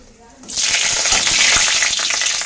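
Bay leaves and dried red chilies hit hot oil with a sudden loud, steady sizzle that holds close and bright throughout, with faint stirring beneath.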